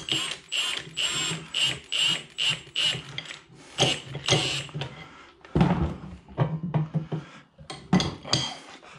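A pinion depth tool on a Ford 8.8 rear axle is tightened down, giving a series of close metallic ratcheting clicks and clanks in short irregular bursts, with no talking.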